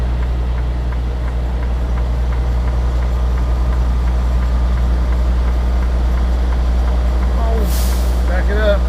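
A heavy truck with tandem axles reverses slowly, its engine a steady, deep rumble throughout, with a sharp burst of air-brake hiss near the end and voices in the background.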